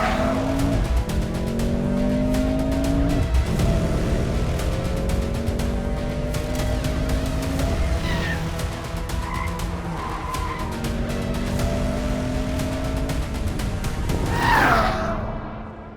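A Mercedes-AMG C43 and a BMW M340i sports sedan drag race on the CoASTT racetrack in Coimbatore. Loud, close engines rev and climb in pitch through repeated gear changes, with tire squeal near the end and no talking.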